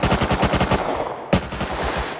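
SMG gunfire in the video game Rust, rapid automatic bursts close and loud, with a short pause before a second sustained burst, no talking.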